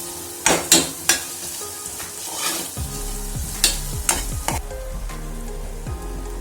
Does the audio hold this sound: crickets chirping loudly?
no